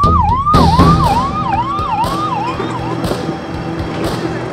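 An ambulance siren wails in a rising and falling cycle, loud and close, with road and traffic noise underneath.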